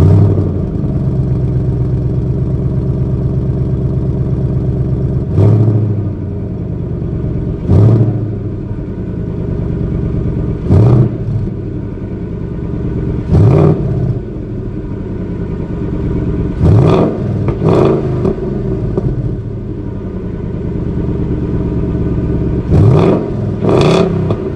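A 2019 Ford Mustang GT with the 5.0-litre Coyote V8 and six-speed manual rumbles steadily at idle, broken by about a dozen sharp, loud throttle blips that rise and fall quickly, several coming in close pairs.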